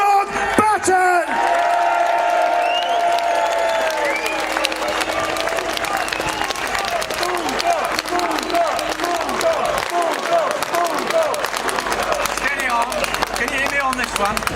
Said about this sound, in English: let's give a massive round of applause for Gerard the Bulldog Batten